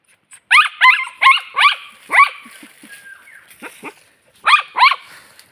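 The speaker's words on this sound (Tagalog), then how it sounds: "ang ingay guys ng aso namin" A dog barks repeatedly at close range, sharp yelping barks in quick bursts with short pauses, then a final pair after a brief gap.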